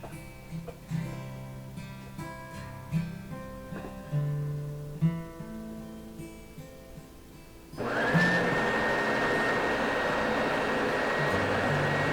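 An oscillating edge belt and spindle sander switches on partway through and settles into a loud, steady whine and hum, after a stretch of quieter background sounds.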